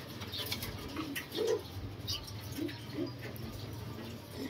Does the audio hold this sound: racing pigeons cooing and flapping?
yes